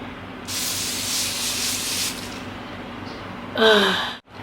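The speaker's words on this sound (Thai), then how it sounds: "เราขอลองฉีดสเปรย์น้ำแร่ดูนะ" A mineral water facial spray gives a soft, steady hiss lasting under two seconds, fairly close and quiet, followed later by a brief breathy exhale.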